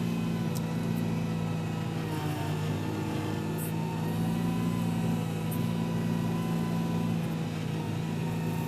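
An Arva Industries MS260 scaler with an automatic speed-sensitive transmission, driving with a steady, continuous mid-pitched motor whine and hum that holds level and close throughout, with faint high ticks now and then.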